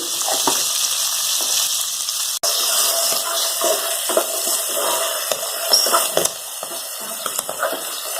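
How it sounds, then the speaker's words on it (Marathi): Green peas roasting in a pan, partly covered with a lid, give a steady crackling sizzle with bursts of louder popping and spitting throughout, close by and without speech. "हिरवे वाटाणे थोडे उठतात थोडस झाकण ठेवून भाजून घ्या"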